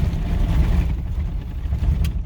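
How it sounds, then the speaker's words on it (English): A Ford Econoline 2wd van with a suspension lift kit rolls over a washboard dirt road, giving a steady, loud low rumble with continuous rattling vibration throughout. "let's just go on the washboard part"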